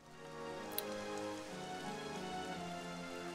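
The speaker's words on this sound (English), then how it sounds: "I do love the sound of rain." Steady rain falls in the video game Dragon Quest XI, a soft continuous patter with a faint musical backdrop and no talking.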